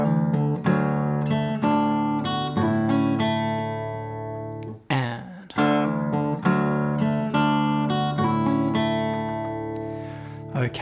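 Fingerstyle acoustic guitar in drop D picks the opening two bars of a Celtic tune, clear plucked notes ringing over bass strings with a brief pause midway, played alone without talking.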